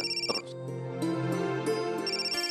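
A telephone rings indoors during a household scene, a steady electronic tone with bright repeating pulses that fill the short stretch, with no talk over it.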